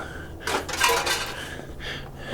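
Small curly cut-off scraps of metal barrel, sliced with an air chisel, are tossed onto a scrap load of riding mowers, clattering and jangling metallically for about a second before settling.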